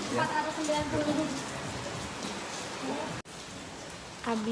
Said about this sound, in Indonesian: Hujan pik.